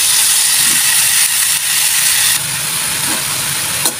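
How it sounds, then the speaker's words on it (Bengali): Papaya and shrimp sizzle in a pan, giving a loud, steady, steam-like hiss with a faint stir or two underneath. "এখানে এখন পেঁপে দিয়ে তারপর একটু ভালোভাবে নেড়ে সুন্দরভাবে রান্না হবে"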